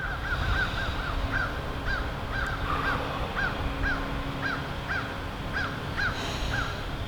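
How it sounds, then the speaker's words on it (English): Crows cawing steadily in the background outdoors, a regular series of harsh calls spread through the whole stretch over a constant hum of distant noise, with no talking. "Listening to the crows in the background."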